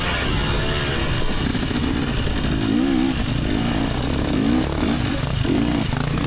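A motorcycle engine drones steadily up close during a race ride, with rising and falling revs as it rides along, loud and continuous throughout.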